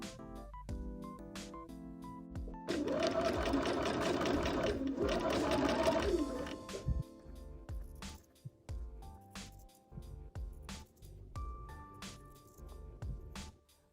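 Domestic sewing machine stitching a fabric pocket seam at a half-centimetre allowance, a steady mid-level whirring burst of a few seconds, with quiet clicks and handling noises before and after.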